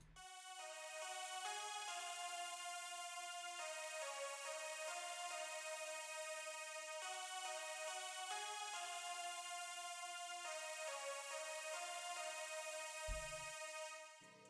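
A harsh, bright lead synth patch built in FL Studio for a beat plays sustained chords that shift every few seconds, buzzy and dense, steady and alone with no voices.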